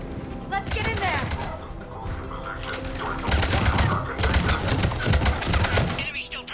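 Rapid automatic gunfire from a Mass Effect firefight at a checkpoint, with Cerberus troops shooting. Bursts crackle continuously and loudly, building into denser volleys near the end, with voices faintly in the mix.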